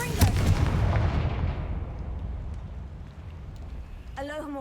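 A Confringo blasting spell in the Hogwarts Legacy video game goes off as a loud, booming burst, then rolls away into a long, fading rumble; a brief voice comes in right at the end.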